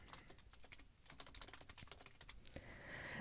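Rapid keystrokes on a computer keyboard while entering text in compositing software, a dense run of close, crisp clicks with uneven rhythm, no speech.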